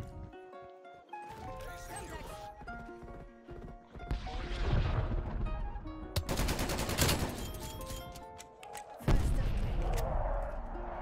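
Submachine gun fire in Call of Duty: Cold War comes as several rapid bursts of sharp cracks separated by brief pauses, with clanking handling noises, while someone talks over it.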